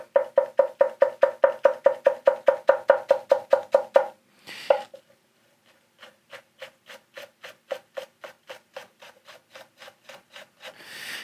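Santoku knife push-cutting on a cutting board in a sharpening studio: a fast, steady run of crisp rhythmic chops, a brief pause with a scrape, then a slower series of lighter, evenly spaced cuts ending in a brushing rub.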